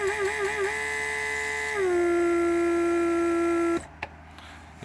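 A Mercedes S-Class door lock pump runs on a bench after repair, a steady electric motor whine with harmonic overtones that drops slightly in pitch partway through, then cuts off abruptly, leaving a few faint clicks.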